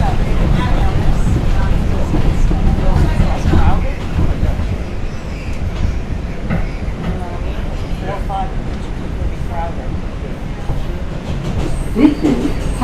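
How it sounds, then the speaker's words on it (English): An NYC elevated subway train passes in the North Bronx, a loud continuous rumble of wheels on rails with clatter and occasional squeals, close by, with people talking faintly underneath. "I can stay on this side so you can see another train pass"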